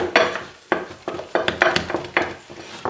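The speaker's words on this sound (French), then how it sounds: "c'est vraiment important de mélanger sans arrêt, sans arrêt, sans arrêt" Rhythmic scraping and knocking of a spoon stirring thick choux pastry dough in a saucepan, repeated strokes close by with no talking.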